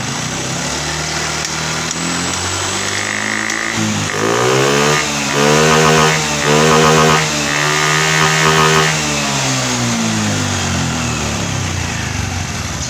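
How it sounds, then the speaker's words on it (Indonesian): A Honda Beat ESP motor scooter with a charging fault is kick-started and then revved, its small high-pitched engine idling steadily before several sharp rising throttle bursts and a return to idle, close and loud throughout. "Jadi saya akan melakukan pengengkolan. Oke, kita gas."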